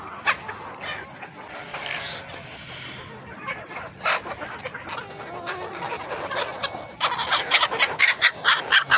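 Golden Misri hens cluck and squawk in quick, irregular bursts while pecking at scattered grain, growing busier and louder toward the end, with no voices present.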